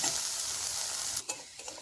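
Yardlong beans fry in a pan with a steady, close sizzle, broken near the end by a few brief stirring scrapes.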